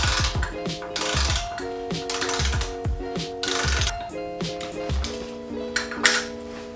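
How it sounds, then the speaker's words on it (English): A hand ratchet works loose the shock absorber bolts on a Harley-Davidson Dyna Low Rider, with repeated bursts of close, rapid metallic clicking and rhythmic ratcheting strokes throughout, with no talking. "We're gonna loosen this bolt up and then we're gonna move down and do this one, and then the whole shock should just come right out."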